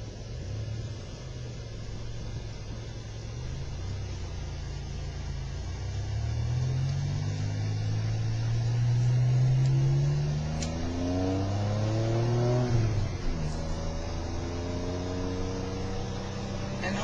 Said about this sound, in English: This is actually a stage 2 motor.